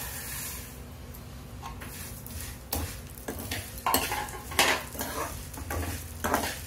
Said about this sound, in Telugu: ఇప్పుడు ఇందులో సేమియా వేసుకుని వేయించుకుందాం